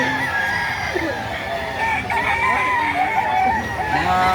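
A rooster crows repeatedly amid a busy, noisy background of other fowl clucking and general bustle at a chicken market in Lipa, Batangas, Philippines, fairly loud and continuous throughout.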